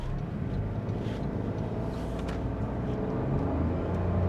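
A 2026 Toyota Aygo X GR Sport city car with its engine running, a steady low drone heard from inside while driving, even and continuous with no talk.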